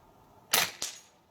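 A Kral Puncher Armour .22 bullpup PCP air rifle fires a single shot, heard as a sharp, close crack followed almost immediately by a second snap, then fading quiet.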